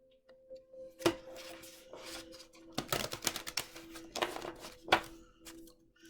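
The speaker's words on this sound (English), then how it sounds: "I'm going to shuffle it one more time." Tarot cards being shuffled by hand, a run of papery riffles and snaps in bursts, with sharper slaps near the start and end, close and fairly quiet, with no talking.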